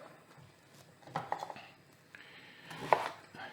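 Knife cutting celery root into cubes on a board in a home kitchen, a few soft scattered chops and taps with quiet pauses between them, closing with one firmer knock.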